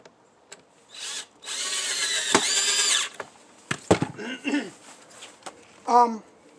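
A power drill drives long screws into model railroad benchwork in several bursts: a sustained whine of about a second and a half, then a few short trigger pulls, close and loud, with brief speech-like sounds between.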